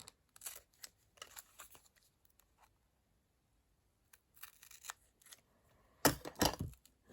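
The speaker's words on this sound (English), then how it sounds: "So let me just trim it." A laminated Christmas shaker gift tag made from a recycled knitting punchcard and filled with sequins is trimmed with scissors, giving quiet, scattered snips in short bursts, then a louder cluster of cuts near the end, with no talk.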